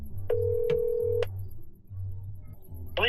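An outgoing phone call rings through a MOMAN H2S Bluetooth helmet intercom. A single steady electronic ring tone sounds for about a second over low background hum, then falls silent before a brief electronic blip.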